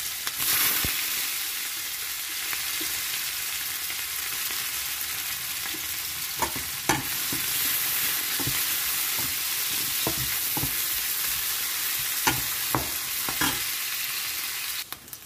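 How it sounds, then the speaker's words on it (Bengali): Chopped onions sizzle steadily in hot oil in a pan while a Bengali fish curry is prepared, with sharp clicks of a spatula stirring against the pan at irregular intervals throughout. "পেঁয়াজটা ভাজা ভাজা হয়ে গেছে"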